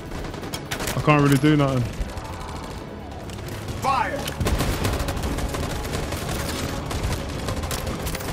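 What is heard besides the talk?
gunfire in Detroit: Become Human video game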